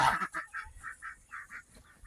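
A run of short nasal quacks and honks from nearby ducks inside a duck house, repeated every fraction of a second, fairly quiet with no talking.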